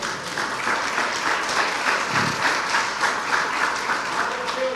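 Church congregation applauding during a sermon, several seconds of sustained, even clapping from many hands filling the hall, with a faint voice underneath.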